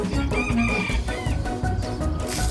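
A white bantam rooster with a black tail crows loudly and close by, a drawn-out cock-a-doodle-doo with a few clucks, with no voices heard.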